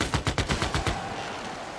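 Rapid burst of automatic gunfire from an attacking unit in Civilization VI, about eight sharp close shots in quick rhythm over the first second, then a fading echo tail with no talk.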